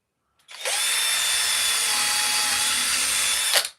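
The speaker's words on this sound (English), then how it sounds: "So drill through there." A power drill bores through a piece of carving wood in one continuous high whine, starting abruptly, running steady and close for about three seconds, then cutting off.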